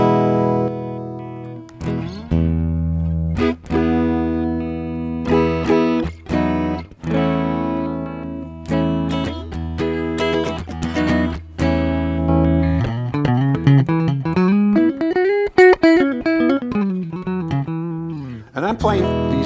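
An electric guitar fitted with Fishman Fluence pickups plays a string of clean and overdriven chords and single notes, switching tones partway through into a bending, effected lead line, loud and close with no voices over it.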